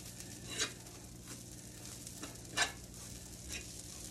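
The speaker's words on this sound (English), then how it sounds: "Mix that kale around some." Kale being stirred and sautéed in a pan, with a low continuous sizzle and two sharper scraping strokes of the utensil standing out among lighter stirring sounds.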